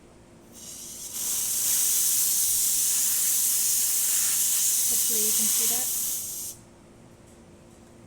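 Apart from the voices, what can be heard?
steam wand of a La Pavoni lever espresso machine hissing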